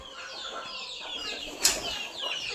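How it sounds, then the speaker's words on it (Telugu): Several country chickens cluck and murmur nearby, with a sudden burst of wing flapping partway through. "ఇవన్నీ మన కోళ్ళు."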